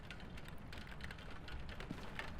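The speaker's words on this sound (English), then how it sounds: "Man, the rain sound is loud." Steady, dense rainfall in the horror game Phasmophobia, a constant pattering hiss with scattered drop ticks, quiet and unbroken throughout, with no voices.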